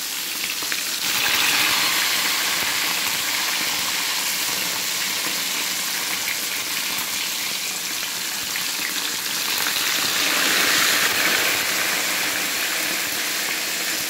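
Meat fries in a pot, a steady close sizzle and crackle that swells slightly at the start and again near the end, with no voices over it.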